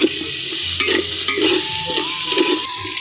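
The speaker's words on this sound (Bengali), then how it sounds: "এটাকে নেড়ে চেড়ে এবারে কিছুটা নাড়বো।" Chicken coated in garlic paste stirred and fried in a pan: a steady close sizzle with repeated scraping stirs of the spoon, no talking.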